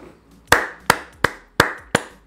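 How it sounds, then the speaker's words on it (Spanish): Five sharp hand claps ring out at a steady, slightly uneven pace, each a crisp close-up smack with a quick decay, alone without voices. "Te aplaudo, te aplaudo."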